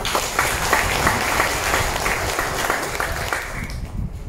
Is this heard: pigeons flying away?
no